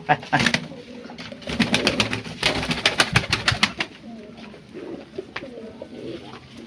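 Pigeons in breeding mood coo in low, throaty bursts close by, with wings flapping and sharp clicking sounds mixed in and a voice talking now and then.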